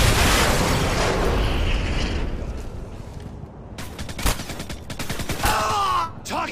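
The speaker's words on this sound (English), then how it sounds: "Throwing stun grenade." A stun grenade bursts in a tactical Search & Destroy shooter match, a loud roaring blast fading into a ringing wash, followed by sharp crackling gunfire bursts and a high whining tone near the end.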